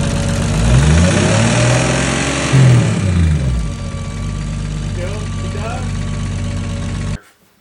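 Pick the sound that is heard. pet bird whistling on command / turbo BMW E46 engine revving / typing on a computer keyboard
turbo BMW E46 engine revving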